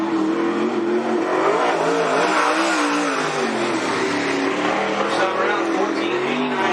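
Late model race car, the number 51 entry from Lincoln City, at Cottage Grove Speedway, its engine droning steadily with a wavering pitch throughout, while a voice talks over it.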